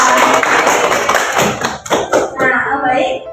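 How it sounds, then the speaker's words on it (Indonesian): Classroom applause for a student during a chemistry lesson on stoichiometry: a dense burst of many hands clapping together, loud and close, fading as voices begin to talk over it. "Kasih tepuk tangan ya untuk Mbak Reni."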